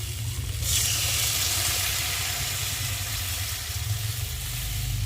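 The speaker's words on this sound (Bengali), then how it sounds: "তাহলে একটু ভালো করে ভেজে দিই" Spice paste for a restaurant-style egg curry frying in a pan gives a steady, close, fairly loud sizzle that holds throughout with no voices.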